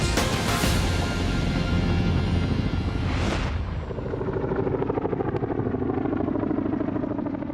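A Chinook helicopter flies with an Apache escort over Helmand Province, a loud, steady rotor roar filling the air with a brief swelling whoosh partway through and no voices.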